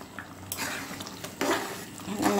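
Chickpea pulao with green chillies being stirred in a pot, a few scraping, rustling strokes over a faint background hiss, with a short louder scrape near the end.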